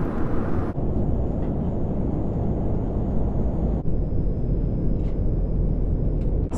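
Steady, loud broadband roar fills the cabin of a small passenger airplane in flight, a constant engine and airflow drone with faint thin tones above it and no talk.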